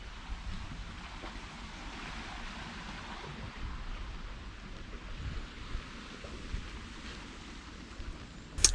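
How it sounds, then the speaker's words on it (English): Distant ocean waves wash and break steadily below a coastal clifftop on a windy morning, forming a soft, continuous rushing roar mixed with wind noise, with no voices. "Hear those waves crashing down there?"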